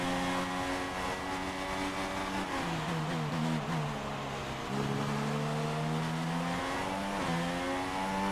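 F1 racing car in F1 2016 accelerating out of a corner, a loud high engine whine climbing through gear shifts with brief pitch drops between them, continuous and close with no talk.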